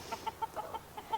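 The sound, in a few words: hens clucking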